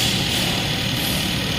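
A 2024 Maruti Swift's K12C engine idles with a steady, smooth, fairly quiet hum and even low rumble, with no talk over it.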